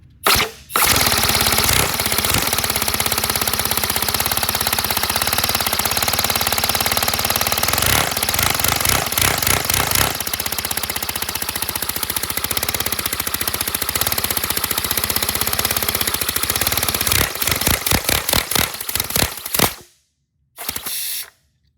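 A 157cc inline twin air-powered engine runs loud and close for about twenty seconds, a fast mechanical chattering and clatter with brief changes in pace, then it cuts off abruptly before a short final burst.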